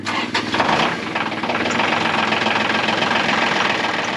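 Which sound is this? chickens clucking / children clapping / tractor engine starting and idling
tractor engine starting and idling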